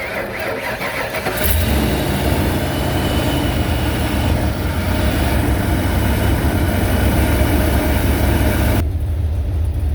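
A 1992 Ford Econoline van engine cranks briefly and catches, then settles into a loud, steady, rough-edged idle close by, cutting off abruptly near the end.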